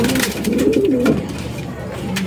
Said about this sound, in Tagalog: ngayon nila ibagay sa box yung mga ibon